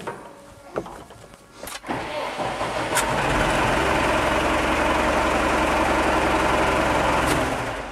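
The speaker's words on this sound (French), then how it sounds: "maintenant, on va pouvoir démarrer le tracto pour remplir le filtre à huile" A JCB backhoe loader engine being started for oil-filter maintenance: a few clicks and a short cranking, then the engine catches and runs at a steady, loud, close idle to the end.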